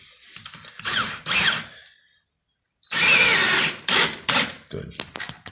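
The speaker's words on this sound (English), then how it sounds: "you're going to put 3 screws down each side." A power drill drives screws into braces beneath a laminated wood countertop during an undermount quartz sink install, with several short loud whirring bursts separated by pauses and a brief silent gap.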